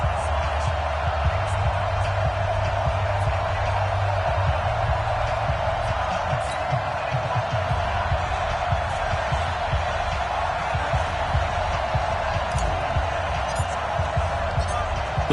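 Steady stadium crowd roar in Madden NFL before a Pittsburgh Steelers versus Tennessee Titans game, a constant dense wash of noise with faint thumps underneath and a commentator talking over it.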